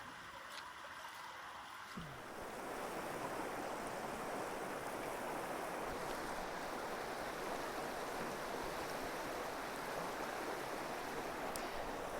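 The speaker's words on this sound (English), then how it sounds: "But now look, this river is full." A small river in Gower runs full and fast after heavy overnight rain, a dense steady rush that starts abruptly after a quieter opening and then holds loud and constant with no voices.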